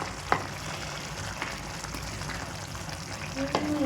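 Food sizzles steadily in a pan while being stirred, a continuous frying hiss with a couple of faint utensil taps, fairly close.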